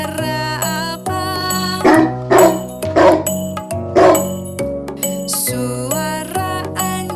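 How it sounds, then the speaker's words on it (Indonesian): Several short dog barks punctuate a steady, cheerful music track, standing out clearly in a loose cluster through the middle of the clip. "Suara anjing."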